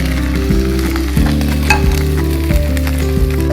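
Onion paste sizzles loudly in a frying pan for a rohu fish curry, a continuous hiss joined by steady low tones and several sharper stirring knocks.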